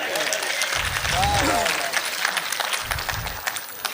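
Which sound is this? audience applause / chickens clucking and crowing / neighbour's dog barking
audience applause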